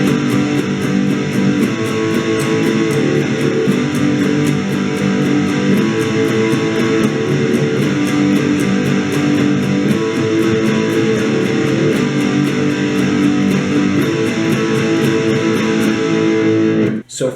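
An electric guitar with distortion plays the closing section as steady, driving strummed chords that stay loud and even for the whole passage, then cut off abruptly at the end.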